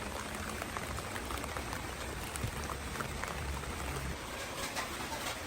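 Rain falling heavily as a dense steady hiss with fine patter, continuous and close, no voices.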